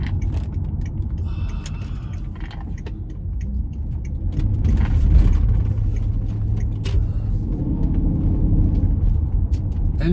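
An auction-bought L322 Range Rover pulls away from a standstill, its engine giving a low, steady rumble with some mechanical whir, swelling slightly midway and holding a continuous drone throughout.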